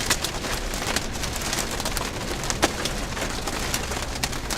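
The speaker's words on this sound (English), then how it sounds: "I think the hail's getting a little larger. I think I hear a little bit of it." Hail pelting down during a storm in New Mexico, a dense steady clatter of many small hard impacts with occasional sharper cracks, continuous and fairly close throughout.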